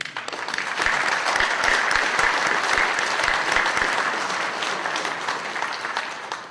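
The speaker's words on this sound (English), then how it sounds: "those 21 who aren't here and are watching should get one final round of applause" A large conference audience gives a sustained round of applause at an intelligent-communities awards event, the dense clapping steady and loud from start to finish.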